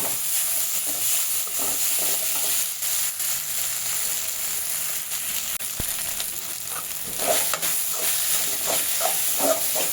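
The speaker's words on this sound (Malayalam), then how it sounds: "നല്ലോണം ഇളക്കി കൊടുക്കാം കേട്ടോ" Flattened rice (aval/poha) upma being stirred in a hot pan, a steady frying sizzle with intermittent scraping and stirring clicks throughout, close and fairly loud with no talk.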